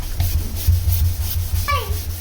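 A stained bathroom basin is scrubbed with lemon, giving steady close rasping rubs in repeated strokes, with brief voices and a short high squeak partway through.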